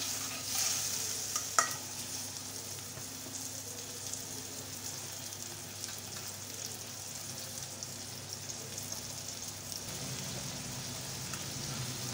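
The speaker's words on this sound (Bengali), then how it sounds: "1 মিনিটের মতো টমেটো দিয়ে আমি কষিয়ে নেব।" Chopped tomatoes stir-fried in a pan while cooking bitter gourd, a steady sizzle with scraping stirs throughout, close and continuous with no talking.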